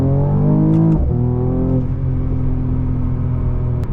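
Mercedes E53 AMG engine revving hard under full throttle, a loud rising drone that drops at a quick gearshift, then climbs again and holds a steady, strained roar.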